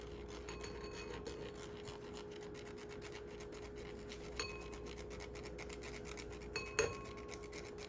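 Matcha powder is rubbed through a fine mesh sieve with soft, steady rasping strokes, faint and close against a low background hum, with a couple of small taps on the sieve near the end.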